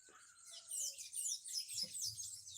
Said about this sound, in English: the birds are chirping, but it's raining